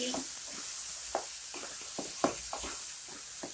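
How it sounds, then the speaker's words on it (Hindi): Mashed roasted eggplant for bharta being stirred and fried with a spatula, with a steady low sizzle and a series of short, irregular scrapes against the pan, close and quiet. "इसे हम एक स्पैटुला की मदद से अच्छे से चला के भूनेंगे।"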